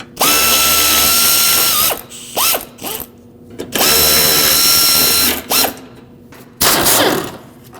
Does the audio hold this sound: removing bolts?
yes